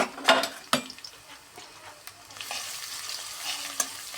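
Crushed garlic and dried chillies frying in a pan for khichuri, stirred with clattering spoon strikes early on and then a steady, brighter sizzle building toward the end, close and clear with no voices.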